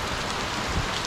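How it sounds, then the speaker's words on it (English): Heavy, cold rain from Hurricane Ian pours down in a loud, dense hiss with steady drumming on surfaces, close by and continuous, with no one talking. "It's actually really cold rain."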